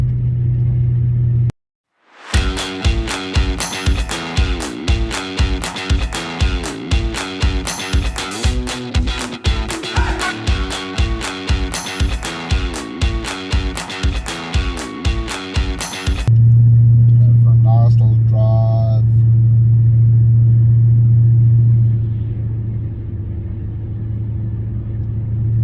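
A European car at a car show with its engine running, heard as a loud, steady low drone in the later seconds after a long stretch of evenly spaced rhythmic pulses.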